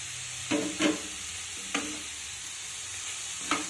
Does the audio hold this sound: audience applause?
no